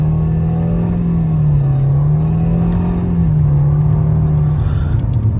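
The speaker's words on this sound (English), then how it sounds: "Let's just accelerate. So we're going to simply accelerate really fast." A 2013 Nissan Altima with a CVT transmission accelerates hard, its engine holding a steady loud drone that wavers slightly in pitch rather than climbing through gears, close and continuous with no talk.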